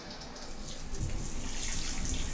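Tap water runs steadily into a sink while hands are rinsed of soapy cleaner, a close, continuous splashing hiss that swells slightly partway through.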